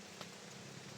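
Steady rain falling outdoors, a soft, even hiss of drops lasting about a second, faint and unbroken.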